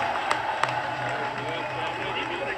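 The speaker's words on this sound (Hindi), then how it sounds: "हम सब मिलकर जोरदार तालियों के साथ में एक बार स्वागत करें।" A large crowd of thousands at a BJP political rally greets Yogi Adityanath, Chief Minister of Uttar Pradesh, with applause. A steady, broad roar of clapping and crowd noise holds evenly, with a couple of sharper claps standing out early.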